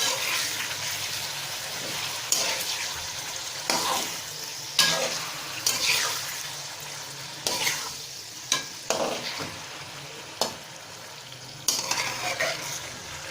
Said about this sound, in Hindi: मीडियम टू हाई फ्लेम पर इसको जो है अच्छी तरह से फ्राई करेंगे।